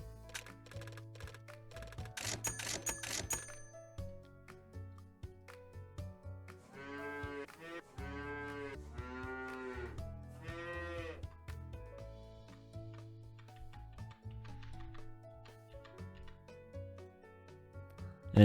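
Cattle in a farm roguelike video game give several drawn-out moos clustered mid-sequence, clear and up front over quiet game music, with light clicking before and after.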